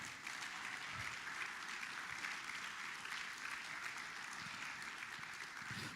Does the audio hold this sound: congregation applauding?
yes